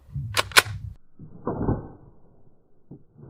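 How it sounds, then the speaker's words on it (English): A PSR26 air rifle is cocked up close: two sharp metallic clicks, then a longer grinding slide of the mechanism and a final soft click. "All right, let's cock it."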